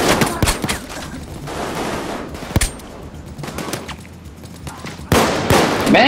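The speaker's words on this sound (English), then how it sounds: "who the fuck is shooting me?" Gunfire from the Payday 2 video game aimed at the player, with sharp bursts and single shots that crack in loud and close at irregular moments over a busy, rumbling game soundscape.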